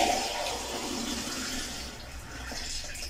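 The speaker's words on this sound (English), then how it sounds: "Just be adding water into it." Water poured into a cooking pot to make a homemade flu remedy drink, a steady splashing, gurgling stream, close and fairly loud, running continuously with no talking.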